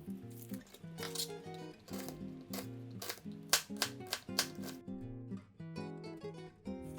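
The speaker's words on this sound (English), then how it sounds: "finely dice quarter of an onion" A knife finely dicing a quarter of an onion on a cutting board for a quesadilla salsa, giving a run of sharp, irregular chops over steady background music.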